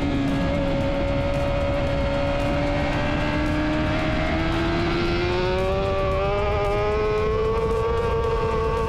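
Superbikes racing at Phillip Island during an Australian Superbike Championship round, a loud engine note rising steadily in pitch under hard acceleration out of a corner toward turn two, continuous and close, with no talk.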